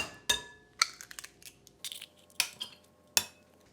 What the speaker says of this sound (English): And we're cracking 8 eggs